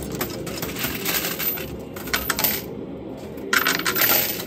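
Metal coins clatter and tumble down inside a coin pusher arcade machine played for real money, a dense, close jingling cascade that briefly pauses and then swells again.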